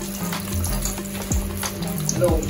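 Dumplings frying in hot oil in a Jamaican-style home kitchen, giving a steady, soft sizzle close by, with faint watery crackles and a couple of light clinks.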